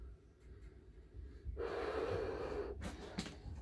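A person sniffs deeply at an open can of Shillow Blueberry Grunt beer from Albino Rhino, a single long audible inhale close to the microphone, followed by a couple of short breathy sounds.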